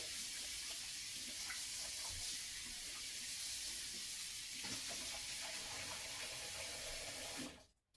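Tap water runs steadily and loudly into a sink while a conditioned synthetic wig is rinsed, a constant close rushing hiss that stops abruptly at the end.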